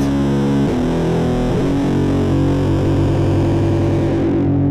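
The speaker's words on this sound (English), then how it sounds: "Man, that is a nasty guitar sound." Heavily distorted electric guitar playing a dissonant minor-key riff, thick and loud with sustained saturated notes, a few note changes near the start, ringing out alone.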